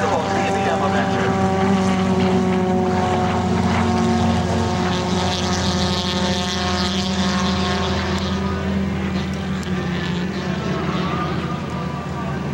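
A TBM warbird's propeller engine drones loudly and steadily at an airshow, a continuous roar with shifting tones and crowd or announcer voices mixed in.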